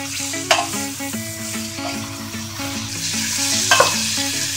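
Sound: stirring leek dish sizzling in pan

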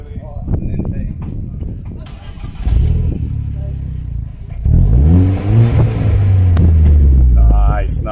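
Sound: Vauxhall Corsa VXR engine revving and accelerating

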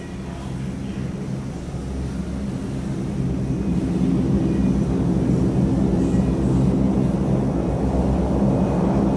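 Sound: airplane flying overhead in a video game

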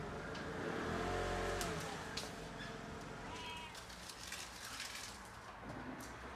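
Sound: cat meowing in a pet shop

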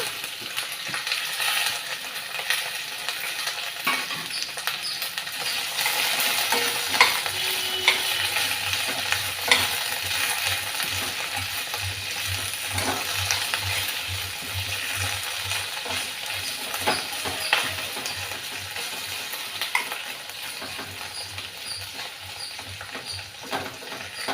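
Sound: okra pieces frying in a pan

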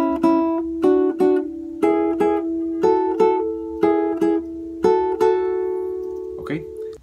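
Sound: guitar phrase of Paraguayan song Punteada Okara

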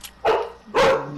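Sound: dog barking

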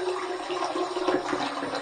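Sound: hot tap water running

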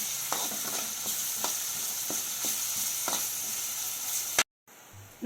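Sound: ginger garlic paste frying with mutton in a pan

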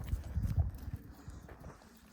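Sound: donkey hooves walking

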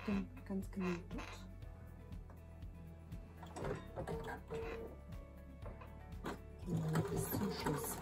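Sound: sewing machine stitching a seam

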